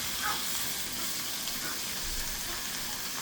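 Steaks set onto onions in an oiled pot crackle and sizzle, a steady close frying hiss with occasional bursts of spatter and no talking over it.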